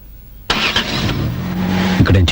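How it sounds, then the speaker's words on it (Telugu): A car engine abruptly starts and settles into a steady running drone, then revs as the vehicle pulls away, heard under a tense film scene with voices over it. "వాడు వచ్చేసాడు. కారు బయలుదేరింది."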